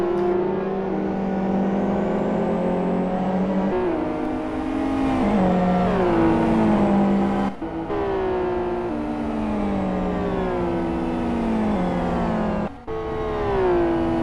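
A SuperGT race car slows into the pit lane during a main race, its loud, close engine note falling in pitch through several downshifts, with brief breaks in the sound between gears.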